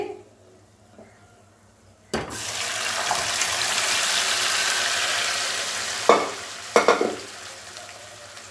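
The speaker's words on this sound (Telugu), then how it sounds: "తాలింపు చేసేసాను కదా, ఇప్పుడు నేను పప్పు అందులో వేసుకుంటాను." Mashed dal dropped into a hot tempering, a sudden loud burst of sizzling that holds steady, broken by a few clattering stirs near the end.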